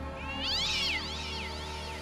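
A single cat gives a drawn-out, wavering growling yowl that rises and falls over a steady low hum, close and clear.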